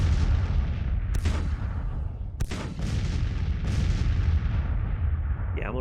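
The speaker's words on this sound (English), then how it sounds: "Meanwhile, the cannons can do some work." Civil War cannon artillery fire in a strategy video game, several deep booming blasts spaced a second or so apart, each rolling off into a long rumble over continuous low battlefield noise.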